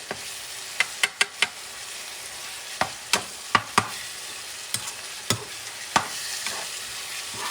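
Ground meat stirred with homemade sazon and olives in a pan, a spoon scraping in sharp irregular clacks over a soft steady sizzle.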